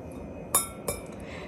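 Glassware tapped to check whether it is crystal or plain glass: three or four short, bright clinks at irregular intervals, close and clear, each with a brief ring over quiet room tone.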